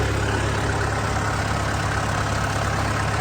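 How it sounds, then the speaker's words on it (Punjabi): A tractor engine runs steadily while spraying a moong crop in a field, giving a continuous, even low rumble with no talk over it. "ਆਪਾਂ ਟਰੈਕਟਰ ਮੂੰਗੀ ਦੇ ਵਿੱਚ ਤੋਰ ਕੇ ਸਪਰੇਅ ਕਰ ਰਹੇ ਆ"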